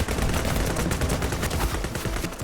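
Rapid gunfire in a ninja video game, a dense, loud, continuous burst of shots with no talking.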